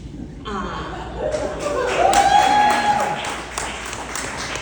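A comedy audience applauding and chuckling, a broad wash of clapping and laughter that swells and holds for several seconds while a performer keeps talking over it.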